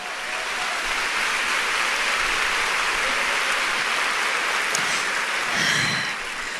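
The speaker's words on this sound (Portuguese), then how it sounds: "Você pode aplaudir ao Senhor?" A church congregation applauds in a steady, dense wash of clapping lasting several seconds, even in level with a faint swell near the end.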